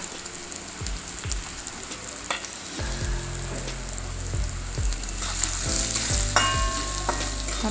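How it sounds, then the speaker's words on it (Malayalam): Onions frying in a pan as chilli powder goes in, for a sweet potato dish: a dense, crackling sizzle runs throughout, with repeated low scraping thuds of a spoon stirring, closer and louder toward the end. "ഉള്ളി മൂത്തിട്ടുണ്ട് നമുക്ക് അല്പം മുളക് പൊടി ചേർത്ത് കൊടുക്കാം"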